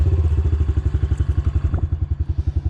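A motorcycle engine idles and revs in a steady low throbbing pulse, close by, with light mechanical clatter over it and no voices.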